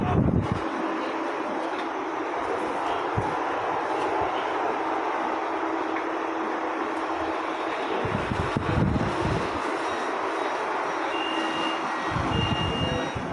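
A train runs on rails in Malaysia, a loud, steady rumble with heavier surges of wheel and carriage noise, joined by repeated high electronic beeping tones.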